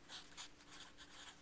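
Pencil or pen scratches across manuscript paper in several quick, soft strokes, quiet and close with nothing else over it.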